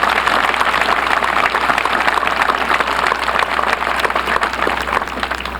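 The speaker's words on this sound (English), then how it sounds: "Let's give Governor Blanco a great round of applause." Steady audience applause at an inauguration ceremony for Louisiana Governor Bobby Jindal, given for Governor Blanco: dense, continuous clapping that holds loud for several seconds and eases slightly at the end, with no voices over it.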